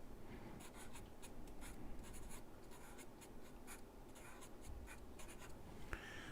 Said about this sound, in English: So, we'll write Eric's name on here